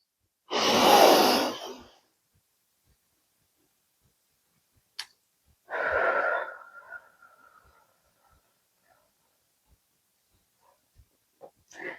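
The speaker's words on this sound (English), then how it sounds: "Inhale for 4 beats, exhale for 6." Slow paced breathing, a long, loud breath of about a second and a half, then after a pause a second breath trailing off, with faint ticks in the quiet between.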